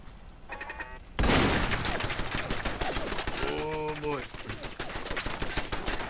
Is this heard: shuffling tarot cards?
no